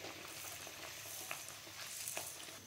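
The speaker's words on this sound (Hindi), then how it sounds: "1 बाय 1 करके पूड़ियाँ डालते जाएंगे और हम इनको फ्राई कर" Puris frying one by one in well-heated oil, a soft steady crackle and bubble with a few faint pops, low in level and with no talking.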